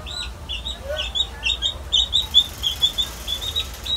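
A small chick chirps repeatedly, a string of thin, high peeps in a quick uneven rhythm, fairly close against a quiet indoor background.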